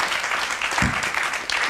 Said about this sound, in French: Vous avez le droit d'applaudir pour cette très belle lecture.